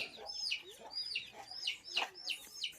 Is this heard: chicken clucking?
yes